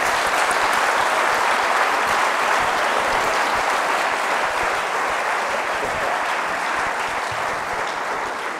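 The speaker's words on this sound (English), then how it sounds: "let's give Chase a round of applause" Sustained, dense applause from a seated audience after a leadership talk by football player Chase Daniel, loud and steady throughout with no speech over it and a slight fade toward the end.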